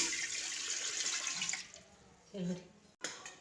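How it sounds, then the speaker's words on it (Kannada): Water poured from a measuring cup into Bombay rava for papad, a loud rushing splash that stops abruptly, followed by a few quieter clinks and a short second pour. "ನೀರು ಹಾಕೋಬೇಕ್ರಿ."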